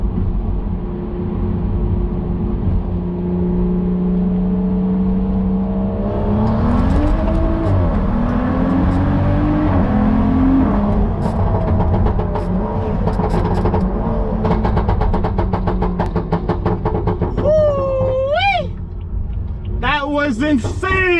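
Car engine revving as it accelerates, pitch climbing and dropping with each gear shift, loud and close from inside, with a voice speaking at times.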